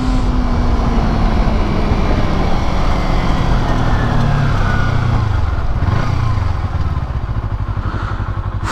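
A Kawasaki Ninja 250R motorcycle engine screams at high revs in third gear while riding, loud and close, with a rising then falling pitch as it winds up and eases off, plus wind rush and no talk.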